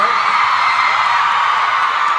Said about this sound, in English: You have to stop screaming everything I say now.